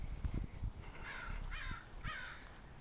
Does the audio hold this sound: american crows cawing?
yes